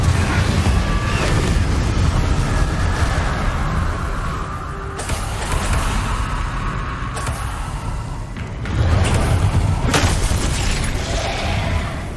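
Confringo explosive spell blasts in Hogwarts Legacy, loud booming impacts with crashing debris over a dense rumbling game soundscape, several hits spaced across the passage, no talk.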